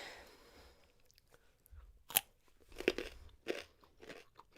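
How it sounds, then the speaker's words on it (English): Loud, close crunches of food being chewed, a few sharp bites spaced through a quiet stretch with no talking. "That was a success crunch."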